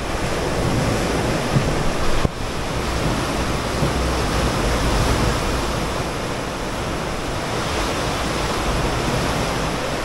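Ocean waves washing onto a beach in Bali, a steady, full wash of surf with a brief dip near the start, continuous and fairly loud, with wind noise on the microphone and no talking.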